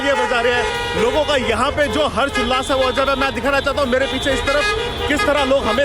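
Car horns toot again and again in a street celebration after the US presidential election result. The short honks sound fairly close, under a man reporting loudly in Hindi.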